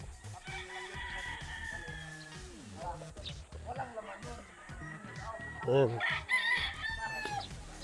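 Gamefowl stags at a game farm crow and cluck in the background, with one crow rising clearly near the end, while someone talks over them almost continuously.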